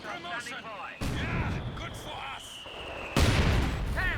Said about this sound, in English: he's got the mortar going to work